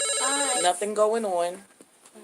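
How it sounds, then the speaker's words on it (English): A telephone rings loudly with an incoming call, a tonal ringtone sounding for about a second and a half over brief speech before it stops. "that was a phone call coming in"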